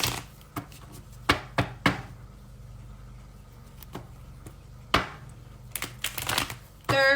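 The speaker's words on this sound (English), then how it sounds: "This is the first shuffle." Tarot cards are shuffled by hand in a quiet room, giving scattered sharp snaps and short riffling bursts at close range, with a longer flurry of card flicks near the end.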